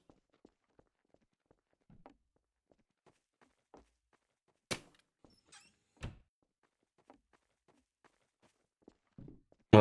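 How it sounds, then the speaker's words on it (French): Sparse footsteps in a video game roleplay, scattered soft taps and scuffs spread over about ten seconds with a few louder thumps and a sharp knock at the end, quiet and distant, without voices. "Vous entendez pas les bruits de pas depuis tout à l'heure?"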